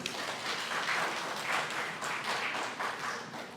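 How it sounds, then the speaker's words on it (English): An audience at the Mr & Ms Madang pageant introduction night claps steadily in dense, sustained applause with a few swelling waves, moderately distant and filling the room without any voices. "so please give them a round of applause."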